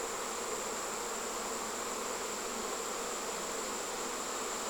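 Honeybees fanning at a swarm trap during a fall swarm, a dense, steady buzzing hum that holds unbroken throughout with no voices.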